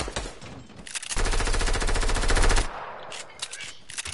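Rapid automatic gunfire in a squad shooter game, a dense loud burst of closely spaced shots lasting over a second, with scattered lighter shots and clatter before and after.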